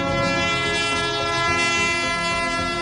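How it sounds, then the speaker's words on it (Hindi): A Pakistan Railways train rolls past with its horn sounding loud and steady throughout, over a dense rumble of wheels and cars. "ये दरियाओं, पहाड़ों, सहराओं और खेत खलियानों से गुजरती रेलगाड़ियां"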